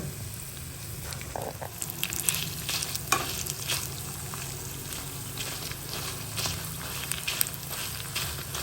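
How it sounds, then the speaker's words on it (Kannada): Dried chillies and coriander seeds fry in a pan on a gas stove, a continuous close crackle and hiss with scraping strokes and occasional taps as they are stirred, no voices. "ಮೆಣಸನ್ನು ಎತ್ತಿ ಹಾಕ್ಕೊಂಡು ಚೆನ್ನಾಗಿ ಇದನ್ನು ಹುರ್ಕೊಳ್ಳೋಣ"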